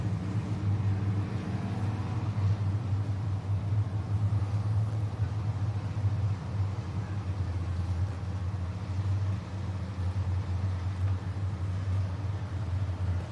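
Race cars pace slowly around a dirt speedway, their engines a continuous low rumble heard from a distance, steady and unbroken with no talk over it.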